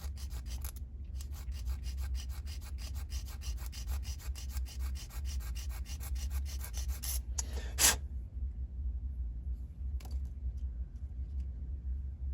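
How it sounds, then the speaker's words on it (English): Close, steady rubbing rasp of a small sanding stick filing down a plastic model frame part for an M422 build, continuous strokes over a low rumble, with a couple of sharp clicks near the end. "With a little sanding stick, of course."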